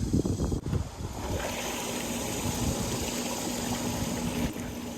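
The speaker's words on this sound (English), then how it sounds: "Once we turn the pump on, it should fill with water pretty quickly." Continuous rushing water with a steady motor hum beneath from a pool pump filling with water, after a brief burst of clatter at the start.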